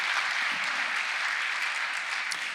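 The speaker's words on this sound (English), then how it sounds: "So please, a big round of applause." A conference audience at an environment awards wrap-up breaks into steady, dense applause that holds evenly throughout, with no voices rising above it.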